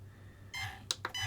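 Flysky ST8 radio transmitter giving short electronic system beeps, a sustained tone followed by two quick chirps and another tone, close and clear with no talk.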